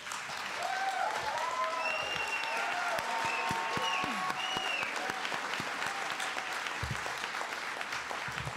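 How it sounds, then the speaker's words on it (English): A graduation audience at a 2010 learning center ceremony applauds the class of graduates, a sustained wash of many hands clapping at a moderate distance, with faint cheers and whistles rising over it. "so give yourselves a round of applause"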